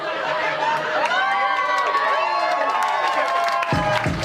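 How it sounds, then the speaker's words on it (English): An audience at a comedy rap show cheers and shouts in a loud, sustained crowd roar with whoops, as if filling a room close to the stage, and voices call out over it. "I love that you cheer while we're spitting this close to the stage."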